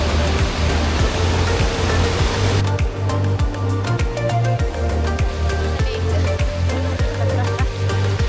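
Strong ocean waves pounding a beach during heavy rain, a loud continuous roar of surf with rhythmic low thumps as breakers crash, close and dominant throughout.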